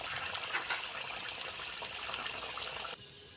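Luchi, small puffed wheat puris, frying in hot oil in a wok, giving a dense, steady hiss and crackle that holds evenly for about three seconds, then drops slightly quieter near the end, with no voices.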